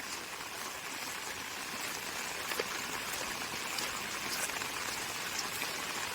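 Steady, dense patter of heavy monsoon rain falling without pause in Konkan farmland, a constant hiss with scattered drop impacts, no voices.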